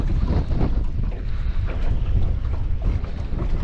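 Strong wind buffets the microphone in a continuous rough rumble outdoors by the water while fishing longlines are checked, with no one talking.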